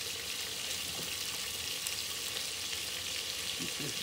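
Cabbage and Italian sausage fry in a hot pan with a steady, dense sizzle and crackle, close up and continuous, with faint stirring movements underneath.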